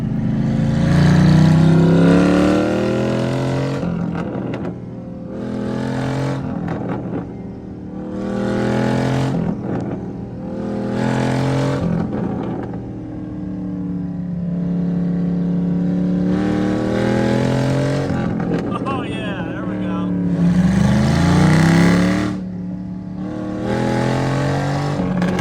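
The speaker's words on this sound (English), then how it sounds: "We'll do a pull here so we can get some high revs on that first gear." A modified burnout truck engine revs hard at high RPM in first gear, climbing repeatedly with brief drops at the gear changes, loud and close throughout with no talk.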